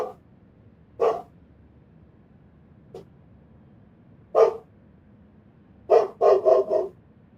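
One dog barks in irregular bursts, a few single barks and then a quick run of three or four, at moderate loudness over a low background hum.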